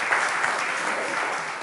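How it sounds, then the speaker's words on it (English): Audience applause for a church theater group, a steady dense wash of many hands clapping at moderate distance, sustained without talk. "clap for that."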